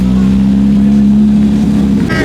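A BMW G80 M3 with aftermarket exhaust holds a loud, droning rev at a cars and coffee meet, its deep steady tone rising slightly near the end, close up and dominating the scene.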